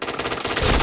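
Rapid automatic gunfire in a shooter video game, a quick rattling burst that swells louder near the end of a brief moment, heard alone without talk.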